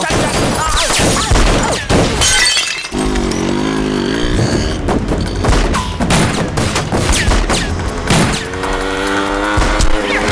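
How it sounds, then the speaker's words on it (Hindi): Loud bursts of staged gunfire from a gun fight stunt show, dense and continuous, with sharp repeated cracks and crashes over a busy, chaotic background across the whole span. "ये गन फाइट है, स्टंट शो की तरह।"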